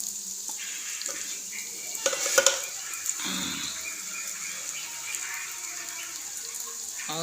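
Spices and a little chili sizzle in a pan for a hilsa fish curry, a steady, moderately loud frying hiss with a few clinks and stirring scrapes partway through.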